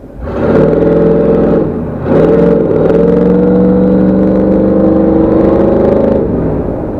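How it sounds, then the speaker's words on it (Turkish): A Chevrolet Tahoe SUV engine revs loudly close by, a deep throaty exhaust roar that dips briefly then surges again and holds steady before easing off. "Arkadaşlar bak şimdi motorun sesini dinleyin. Egzozun sesini."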